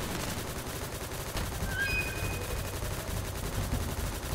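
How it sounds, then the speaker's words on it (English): A Gatling gun fires continuously in a video game, a dense, loud and unbroken mechanical rattle with a brief sharp whine partway through. "This Gatling gun is the personification of my rage"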